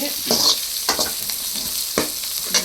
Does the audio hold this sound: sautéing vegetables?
yes